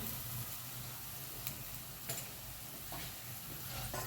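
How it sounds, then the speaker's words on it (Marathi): Sesame and peanut powder filling mixture being stirred in a pan, a faint steady low sizzle with occasional soft scraping taps, alone and fairly quiet. "मी अख्खी तीळ पण थोडीशी टाकून घेणार आहे चांगलं हलवून घेणार आहे"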